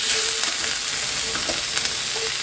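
Onions sizzle and fry in a half teaspoon of oil in a pan, a steady close crackle with occasional stirring clicks and no voices.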